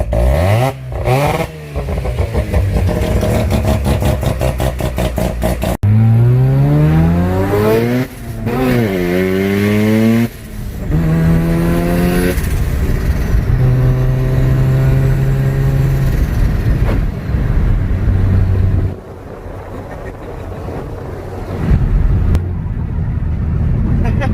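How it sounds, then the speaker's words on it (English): A street-tuned Mazda RX-7 rotary engine making over 600 hp revs hard and close by, climbing and falling through repeated sharp sweeps with loud bursts and a settling idle between pulls. "rev it up."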